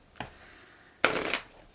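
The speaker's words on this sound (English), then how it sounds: "One last shuffle and we'll get started." A deck of cards shuffled indoors, with a faint riffle followed by a louder, brisk ruffle of cards lasting under a second, close and alone.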